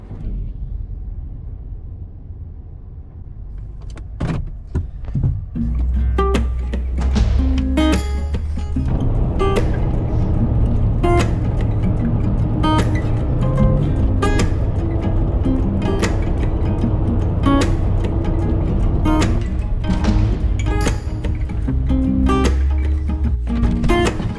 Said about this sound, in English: A half hour later, the truck's finally warmed up enough.